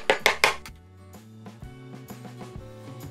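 Sugar being mixed into dry ingredients in a bowl for a chocolate fudge ice cream cake: three sharp clinks of utensil against the bowl up front, then a softer scraping, stirring rustle with low resonant rings from the bowl.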